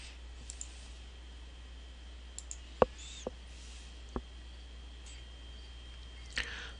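A computer mouse clicks while a digitized polygon is being saved in mapping software: a few sharp, isolated clicks spaced irregularly across a quiet room with a faint steady hum.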